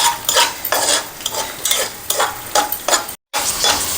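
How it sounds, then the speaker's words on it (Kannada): Raisins, cashews and almonds roasting together in a pan, with a spoon stirring in steady scraping sweeps over a constant sizzle; close and fairly loud, broken once by a brief silent gap. "ದ್ರಾಕ್ಷಿ, ಗೋಡಂಬಿ, ಬಾದಾಮಿ ಮೂರನ್ನು ಒಂದು ಸ್ವಲ್ಪ ಹುರಿದಿಟ್ಕೊಂಬಿಡೋಣ"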